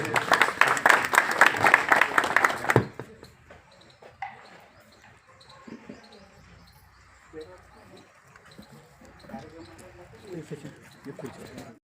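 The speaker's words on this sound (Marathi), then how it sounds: "शेतकरी बांधवांना विनंती की एकदा जोरदार टाळ्या झाल्या पाहिजे" An audience of farmers at an agriculture department event in Pachora gives a loud burst of clapping for under three seconds, which then stops abruptly, leaving quiet room noise with faint scattered sounds.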